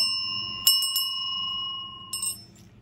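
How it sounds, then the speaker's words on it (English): A bicycle-type bell rings out in a quick double strike, then again about a second and a half later, each ring leaving a clear, lingering metallic tone in an otherwise quiet room. "Ring that bell."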